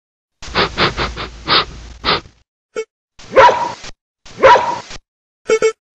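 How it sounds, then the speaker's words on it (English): A dog barks in a quick run of about five sharp barks, followed after a short pause by two more drawn-out barks, close and loud, with brief clicks between. "Dog."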